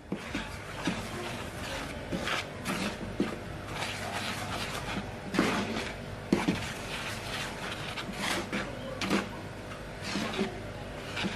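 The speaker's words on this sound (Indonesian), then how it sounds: "Kita aduk rata dulu menggunakan sendok sayur." A ladle stirs vegetable fritter batter in a bowl, giving a continuous run of scraping and soft clattering strokes with occasional louder knocks against the bowl, close and uneven in rhythm.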